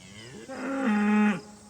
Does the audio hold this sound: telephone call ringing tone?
no